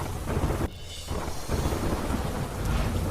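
Heavy late-night rain falls with gusting wind over Dahod in Gujarat, a dense continuous roar with deep thunder rumbling underneath. The sound briefly dips before the downpour resumes.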